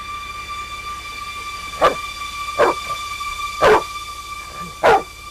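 A dog barks four times, spaced out over a steady electrical hum, the barks fairly close and sharp.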